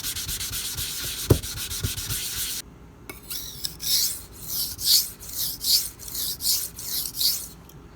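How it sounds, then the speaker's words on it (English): A rust eraser scrubs swarf off a knife sharpening stone, first as steady close scraping, then after a short pause as about six rhythmic back-and-forth strokes. "to use this rust eraser, get all this swarf off, and hopefully it'll glaze the stone again"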